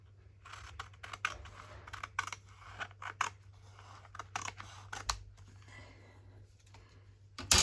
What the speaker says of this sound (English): And this one I'm going to trim sideways.